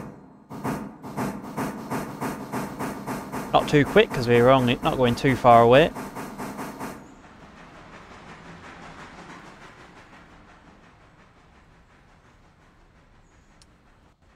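A locomotive in the train simulator RailRoader sets off with rhythmic chuffs and hissing that grow louder, then settles into a softer, fading rumble as it moves. Someone talks over the start.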